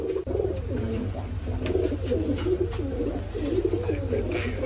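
Rajshahi Giribaj pigeons coo nearby in overlapping, rolling throaty calls that run continuously over a low steady hum, with a few faint higher chirps in between.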